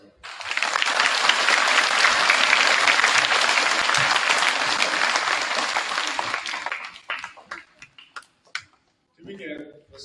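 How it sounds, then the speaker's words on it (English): Audience at a Veterans Day event bursts into loud, dense applause that holds steady for several seconds, then breaks into scattered final claps before a voice begins speaking. "Let's give a round of applause for them."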